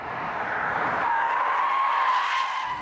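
A Bentley with a twin-turbocharged 6.75-litre British engine drives fast, its sound a steady loud rushing roar with a faint rising tonal whine, without any break.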